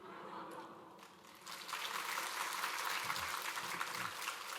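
A church congregation at a Sunday morning service breaks into applause. After a quiet start the clapping swells into a dense, sustained roar of many hands and continues evenly to the end.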